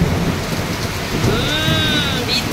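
A rainstorm pours steadily, with rain drumming on surfaces and a low rumble of thunder beneath it; the wash of rain stays dense and loud throughout, and faint whistling tones drift through the middle.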